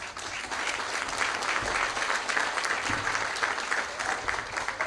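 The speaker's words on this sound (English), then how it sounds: "Give a round of applause to that." A crowd at a public announcement of a new allied health and nursing center breaks into dense, continuous applause, a full wash of many hands clapping at even loudness throughout.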